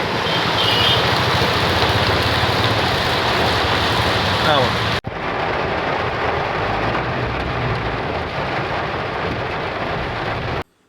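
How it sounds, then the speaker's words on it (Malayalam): Heavy monsoon rain pours down in Nilambur, Kerala, amid strong wind, a dense, loud, continuous hiss that breaks off abruptly midway and resumes just as strongly. "നിലമ്പൂരിൽ കനത്ത മഴ"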